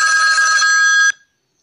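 A name ringtone for someone called Sujit rings loudly and steadily with bright electronic tones, then cuts off abruptly into silence after about a second.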